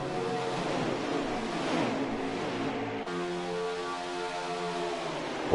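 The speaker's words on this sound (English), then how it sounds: "Listen to those cars, listen to those fans." Race cars roar in NASCAR Heat 5 at Daytona with a crowd behind them, forming a steady wash of engine drone and a distant rumble of fans that runs on evenly with no pauses.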